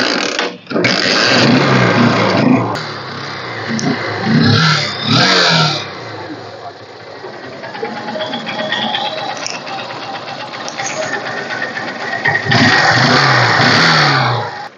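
A Honda Shine motorcycle in good condition, with a weak battery, is started and revved at a bike shop. The engine catches and roars loudly in bursts, settles to a steady idle, then swells into another loud rev near the end.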